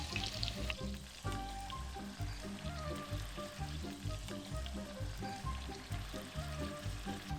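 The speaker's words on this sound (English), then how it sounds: "they've been stir frying now for 7 minutes really" Meatballs sizzle steadily in a pan after about seven minutes of stir frying, a continuous close crackle and hiss with faint stirring clinks throughout.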